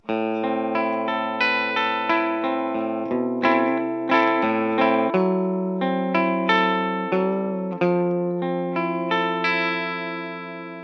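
Clean electric guitar from a Gibson Trini Lopez through a Fender Tone Master amp's clean channel, picking sustained chords and single notes, ringing with a touch of shimmer and reverb, played alone.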